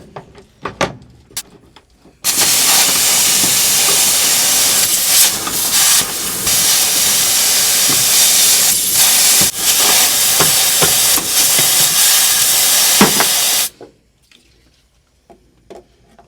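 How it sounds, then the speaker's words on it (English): Compressed air blasts in a loud, continuous hiss for about eleven seconds, blowing debris out of a thread on a V12 Detroit Diesel two-stroke dump truck, with short puffs before and after. "once the compressed air can blow through, it blows all the rubbish out of the thread"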